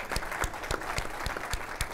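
A small studio audience claps at a talk show's 50th-episode milestone, with about eight distinct, evenly spaced claps at moderate volume and no voices.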